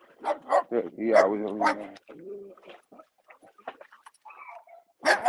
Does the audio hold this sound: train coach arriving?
no